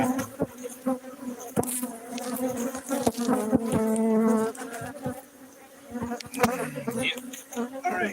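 Honey bees swarm and buzz around an opened hive colony while a super is being added, a dense, steady insect drone close by with sharp knocks and clatter of hive equipment throughout.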